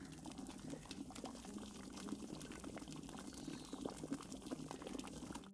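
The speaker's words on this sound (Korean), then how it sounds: "석회 수가 이제 이렇게 보글보글 이쁘게 끓어오르고 있습니다" Quicklime slaking in water as it seethes and bubbles, a dense, continuous fizzing crackle with rapid popping, steady and close, with no voices.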